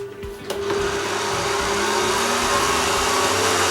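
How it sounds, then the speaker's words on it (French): An electric meat grinder fitted with a coarse plate starts up and runs to mince poultry, a steady, loud motor whine with a grinding undertone that keeps going throughout. "Allez, on va maintenant hacher la viande."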